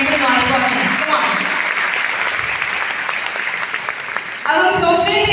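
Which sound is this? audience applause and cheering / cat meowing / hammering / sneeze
audience applause and cheering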